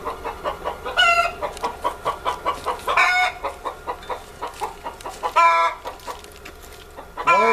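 A hen clucks in rhythmic, repeated pulses beside a farm water barrel, with a few louder, sharper squawks breaking through the steady clucking.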